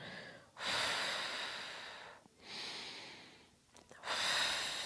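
Slow, audible breaths during a gentle yoga-pilates leg-lift exercise: three long airy exhales and inhales, close and soft, separated by brief pauses, with no speech.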